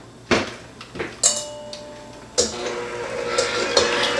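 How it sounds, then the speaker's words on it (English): An egg being whisked and broken up in a bowl with a utensil, giving sharp clinks and taps against the dish, then a steadier scraping stir, close and alone. "I want to mix the egg and break it up"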